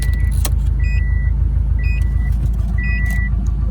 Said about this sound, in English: The car is literally still on,